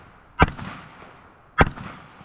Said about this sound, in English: Low, you're shooting low, man.